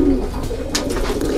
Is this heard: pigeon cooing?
yes